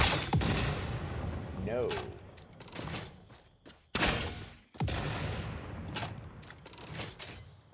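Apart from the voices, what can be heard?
nobelisk explosives detonating in Satisfactory video game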